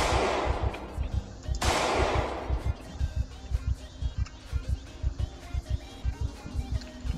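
Gunfire in Project Zomboid: two heavy blasts open, followed by a steady rapid string of loud shots repeating close and evenly.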